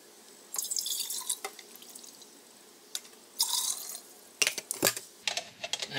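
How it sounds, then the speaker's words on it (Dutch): Measured cups of boiled water being poured in a kitchen, in short splashing bursts with quiet gaps and small clinks between pours. "En dan pak ik 2 afgemeten kopjes water."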